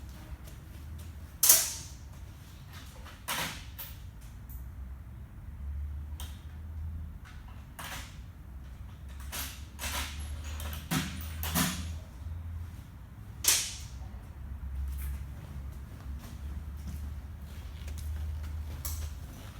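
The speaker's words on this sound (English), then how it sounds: "Quarter drive ratchet with a 10mm socket" A quarter-drive ratchet fitted with a 10mm socket works on a car's rear axle, giving scattered sharp clicks and creaks at an irregular pace, fairly quiet and close, with a low hum underneath and no talking.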